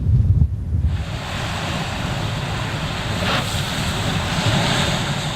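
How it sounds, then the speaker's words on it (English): Monster waves pounding the Massachusetts coast during a bomb cyclone storm, a continuous loud roar of surf mixed with gusting wind buffeting the microphone. "Coastal communities in Massachusetts pounded by monster waves."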